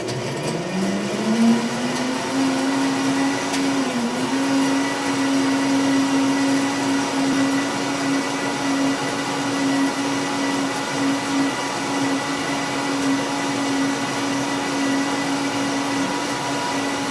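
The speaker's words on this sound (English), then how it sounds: "So nice with the commercial blender, you can set time and speed" A DNA commercial blender motor whirs up in pitch and then holds a steady, loud high drone throughout.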